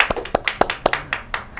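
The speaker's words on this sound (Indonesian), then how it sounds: "Tepuk tangan semua." A group of children claps hands in a quick, slightly uneven rhythm, a handful of sharp claps close by with no talking.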